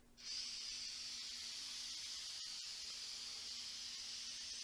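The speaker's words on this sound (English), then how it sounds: "Spray adhesive liberally. It has a pretty good stream on it." An aerosol can of spray adhesive sprays onto vinyl corner bead in a steady, close hiss that holds for several seconds, broken only by a brief cut partway through.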